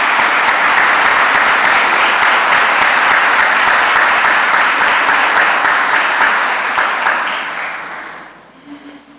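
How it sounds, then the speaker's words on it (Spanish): Sustained applause from an audience at a Constitutional Court ceremony: a dense, steady clatter of many hands that holds for about eight seconds, then fades out. "Pido para ella un fuerte aplauso."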